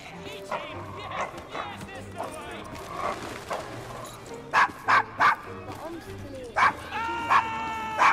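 In the Assassin's Creed Syndicate video game, a dog in Victorian London lets out several sharp barks and yips mixed with whimpers, close and loud, while characters talk and horse hooves clop in the background.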